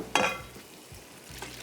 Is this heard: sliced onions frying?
yes